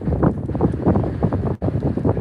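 Strong wind gusts buffeting the microphone in heavy, rumbling bursts at a forest fire between Batmantaş and Çayören villages in Tokat, Turkey, loud and continuous with a brief dropout near the end.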